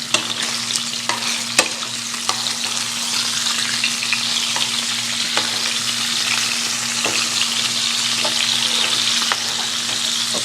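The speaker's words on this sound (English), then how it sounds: "Remember now, we're not frying it, we're sauteing it." Tilapia fillets saute in a hot pan, giving an even, unbroken sizzle and crackle at close range, with occasional faint pops and no voices.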